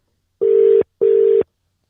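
A telephone ringback tone for an outgoing call: two identical steady electronic beeps, each about half a second long, separated by a short gap, loud and clean with no talk.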